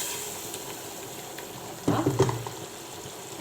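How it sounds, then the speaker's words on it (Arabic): Vegetables and meat sizzle while frying in a pot for Algerian frik soup, a soft steady crackle that swells briefly as the food is stirred, with no talking. "بعد ما تقلات لي الخضره تاعي مليح مع اللحم"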